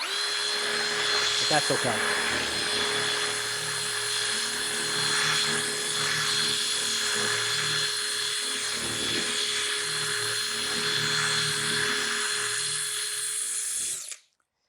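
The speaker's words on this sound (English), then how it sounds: "This drill goes maybe 2300 in this speed." Power drill spinning a fleece wax applicator at high RPM, a steady loud whine that runs continuously before cutting off abruptly at the end, with brief speech over it.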